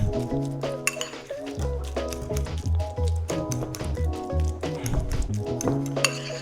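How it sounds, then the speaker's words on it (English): Guacamole being mixed and smashed in a bowl with a utensil: steady clinks and taps against the bowl mixed with soft wet squishing, close and fairly busy, with no talking. "Just mix this all together and smash it up."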